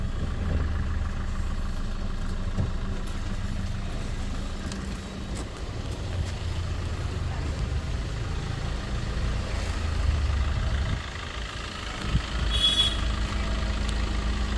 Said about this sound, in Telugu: ఇంజన్ స్టార్టింగ్లో ఉంది.